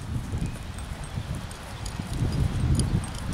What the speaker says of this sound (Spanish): ven que el trotecito que tiene como para un desfile es un caballo muy armonioso